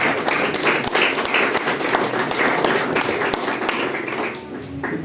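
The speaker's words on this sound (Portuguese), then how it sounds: "Pode aplaudir o Senhor Jesus" A church congregation claps during a communion service, a lively, uneven patter of many hands that stays strong for several seconds before tapering near the end.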